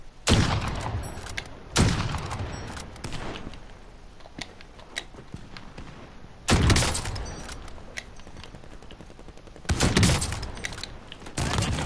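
Bursts of gunfire in Call of Duty on PS4, loud volleys at the start and again around two, six and a half and nearly ten seconds, with quieter scattered shots and mechanical clicks in between.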